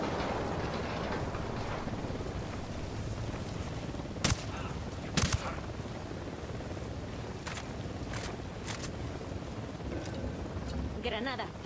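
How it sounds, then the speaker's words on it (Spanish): Gunfire shootout between a military unit and cartel fighters in the video game Ghost Recon Wildlands, a few sharp shots standing out over a dense, steady battle din, with talk over it. "Hay un tiroteo entre la unidad y el cártel."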